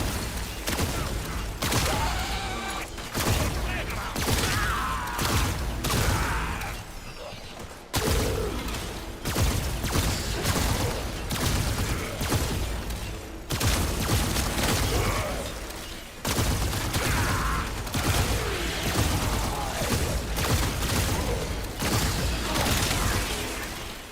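Sustained gunfire and bursts of shooting in the Warframe video game, a dense, continuous fusillade with booms running almost without pause, briefly dipping a few times.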